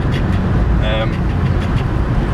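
Volkswagen Polo Mk4 9N driving through turns, with a steady low rumble of engine and road noise from inside the cabin while someone talks over it.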